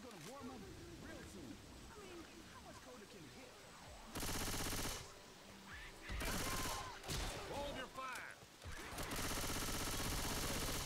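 Bursts of rapid automatic gunfire from the game Left 4 Dead 2 come in loud stretches that alternate with quieter moments, while several players talk over the shooting.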